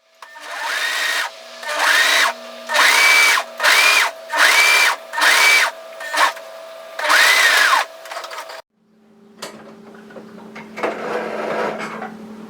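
A sewing machine hums through a garment seam in seven steady bursts of stitching with short pauses between, running close and clear; after it stops, quieter handling and rustling of fabric follow.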